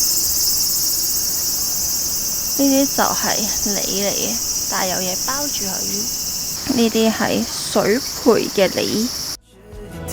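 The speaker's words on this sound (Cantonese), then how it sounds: "啲蟬聲好大啊！" Loud, continuous cicada drone in a garden in Tottori, Japan, a steady high buzz holding through the whole scene while a person talks over it in the foreground.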